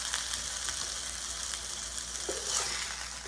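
Greek chicken sizzles quietly in a hot cast iron skillet, a steady crackling fry with small pops and spits, heard close and alone with no talk.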